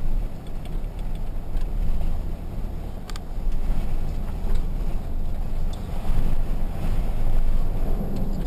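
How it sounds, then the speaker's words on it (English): Heavy wind buffets the microphone continuously outdoors at Sawtooth Peak in Nye County, Nevada, a loud rumbling roar that swells and eases without pause. "It is really windy outside."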